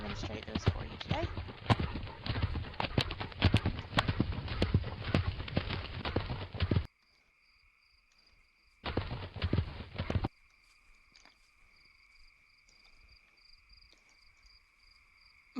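Horse hooves clip-clop in a Teegle horse avatar video game demo, a steady walking rhythm that runs for several seconds, cuts out, briefly returns and then stops, leaving only a faint tone while a person talks.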